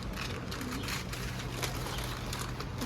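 Pigeons in a coop give soft, low cooing calls against a steady, busy background hum, with faint shuffling and fluttering mixed in throughout.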